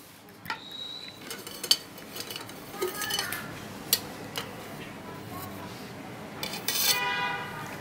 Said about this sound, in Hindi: हमने एक अंडा ले लिया है, इसको हम फेंटेंगे।